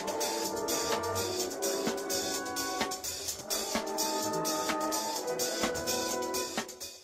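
Keyboard chords voiced with only the third, flat seventh, ninth and thirteenth, played with no bass line underneath, sounding as a steady, sustained, rootless harmony with several soft chord attacks.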